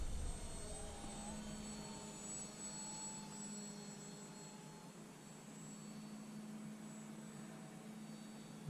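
Small FMS J3 Cub scale model airplane flying overhead, its electric motor a steady, fairly distant drone that holds through the whole stretch with faint shifts in pitch.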